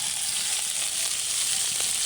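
Onion with pounded ginger, garlic and cumin paste frying in a pan for a rural Bangladeshi loitta dried fish and eggplant curry, giving a steady, close, bright sizzle with no talking.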